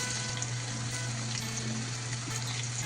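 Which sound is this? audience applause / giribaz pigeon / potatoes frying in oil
potatoes frying in oil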